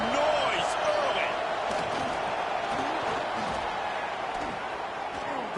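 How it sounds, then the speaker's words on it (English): Loud, continuous roar of a football stadium crowd during a game, a dense wash of cheering with scattered shouts and thuds and no pauses. "This crowd bringing the energy and noise early."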